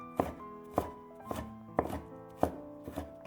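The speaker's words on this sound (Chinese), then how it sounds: "几瓣大蒜用刀拍一下，然后切成蒜末" A kitchen knife chops smashed garlic cloves into mince on a cutting board, sharp woody knocks in a steady rhythm of about two per second, close and loud with no talking.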